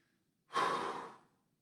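One long breath is pushed out during a stretching and mobility exercise, a close, airy exhale that rises quickly and tapers off, heard alone against near silence.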